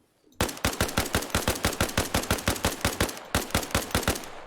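Rapid 5.56 rifle fire in ArmA: Reforger, a loud close burst of about twenty evenly spaced sharp shots with a brief gap near the end before firing resumes.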